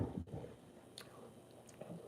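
Someone chews crunchy granola cereal close to the mic, with quiet, wet crunches and a few sharper bites spread unevenly over two seconds, faint and without speech.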